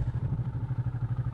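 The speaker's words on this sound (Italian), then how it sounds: "Ho già acceso la moto." Motorcycle engine idling close by before a mountain trail ride, a steady low throbbing putter with fast even pulses and no voices.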